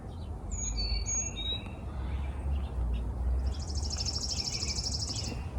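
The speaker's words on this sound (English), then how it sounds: "And the birds sound beautiful." Several birds chirp and trill over a steady outdoor rumble in a North Carolina garden in March, with clear whistled notes early and a rapid buzzy trill later, no voices.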